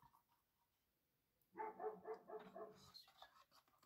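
A dog barks in a quick burst of several sharp, fairly close barks after a moment of near silence, followed by some faint higher yips.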